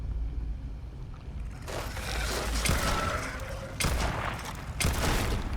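Gunfire in the space game Starfield: a few sharp shots ring out amid a busy, noisy game mix, with bursts near the two-, four- and five-second marks, no speech over them.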